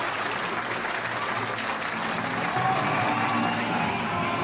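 Steady applause fills an award ceremony, a dense wash of clapping from an audience with no pauses and faint voices underneath.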